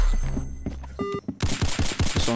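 Rapid gunfire from the Roblox shooter Arsenal, a quick burst of several sharp shots in the second half following a few beeping game tones, loud and close with no talk over it.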